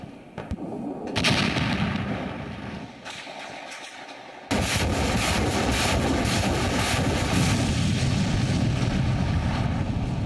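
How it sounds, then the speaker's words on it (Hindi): Artillery fire and bombing in the Ukraine war rumble as heavy, rolling booms under gusting wind noise, with a sudden louder burst midway that then holds as a sustained roar. "बमबारी हो रही है।"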